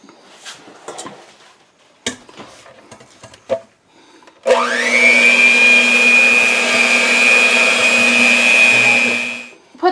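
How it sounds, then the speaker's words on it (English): After some faint handling noises, an electric kitchen mixer switches on and whirs steadily for about five seconds, mixing pizzelle batter of eggs and flour, loud and close before stopping. "And turn your mixer on."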